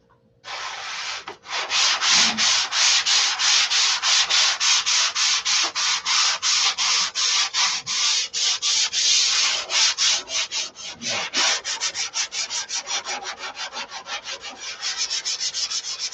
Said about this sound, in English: I'll sand this, flip it over, sand the other side